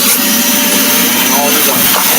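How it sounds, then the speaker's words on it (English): A wet-dry vacuum roars steadily and loudly as it sucks water out of a dirty, rock-filled pool filter, a continuous broadband whoosh with gurgling slurps and no talking. "we're going to vacuum out all this water"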